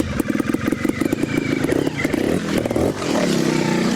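A Sherco STF 2025 trials motorcycle picks its way through a trials section in first gear, its engine chugging in quick, uneven pulses close by, then smoothing into a steadier, rising drone.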